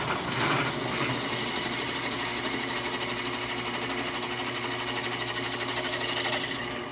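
A drill with a 3/8 inch bit bores pilot holes in aluminum for a custom motorcycle clutch and brake lever, giving a steady, close mechanical whine that holds for several seconds without pause.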